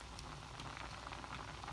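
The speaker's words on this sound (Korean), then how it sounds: "지금 양념에 물을 살짝 끓이고 있고" Seasoning and water gently simmering in a pot before cutlassfish goes in for braising, a soft steady bubbling and faint crackle at low volume, with no voices.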